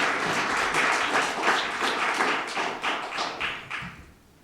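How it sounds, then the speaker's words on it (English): Audience applause at a literary review celebration reading: a room full of people clapping steadily, then thinning out and fading to quiet over the last second. "Let's give a round of applause."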